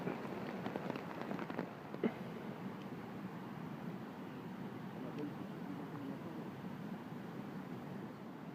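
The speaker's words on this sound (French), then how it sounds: "On verra bien si la pluie persiste toute la nuit." Rain patters steadily on a bushcraft bivouac shelter at night in the woods, a soft, dense hiss with scattered louder drops, faint and continuous throughout.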